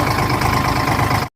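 A tractor engine runs at a steady idle, close and loud with an even low throb, alone and without voices, before cutting off abruptly at the end.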